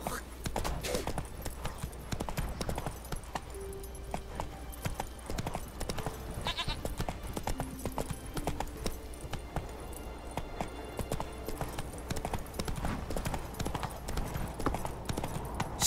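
Horse hooves clip-clop in a steady galloping rhythm in The Witcher 3, continuous and fairly close, with game voices and effects layered over the hoofbeats.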